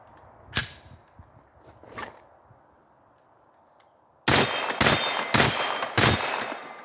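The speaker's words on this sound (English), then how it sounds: "let's try firing a couple rounds and see if this will work" A 9mm AR rifle firing with no extractor, four loud sharp shots in quick succession after two fainter metallic clicks and handling sounds.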